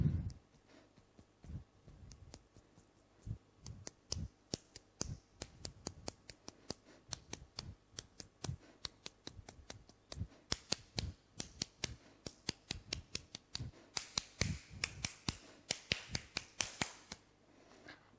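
Children tap their fingers together in a counting clap, sharp sparse clicks at first that grow quicker and denser, quiet and close, with no talk.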